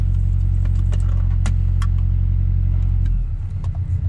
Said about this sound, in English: you see how it idles? It just goes up, down, and it just drops and goes right back down